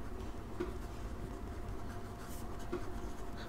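Pen scratching on paper while working out a written math differentiation problem, a soft steady scribbling texture running the whole time at moderate level with no voices.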